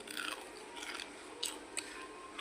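Crunchy carrot pakoda bitten and chewed up close, giving a few sharp crisp crunches over a soft, steady hiss.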